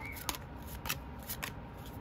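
Tarot cards from an embroidered deck are shuffled by hand without riffling, giving soft, brisk swishes and slides in a few short bursts close by, with no talk.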